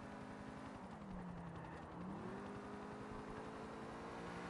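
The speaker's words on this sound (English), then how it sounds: "I'm going to follow the crap out of this helicopter." A helicopter in the video game Grand Theft Auto IV drones steadily with a continuous rotor whir and engine hum, its pitch dipping and then rising again as it moves.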